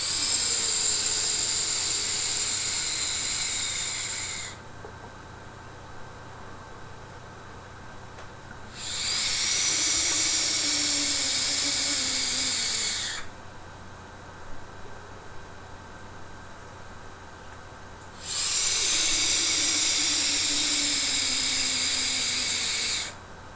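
Two long hissing inhales through a vape tank, several seconds each and separated by quiet pauses, close and fairly loud as the device is used one pull after another.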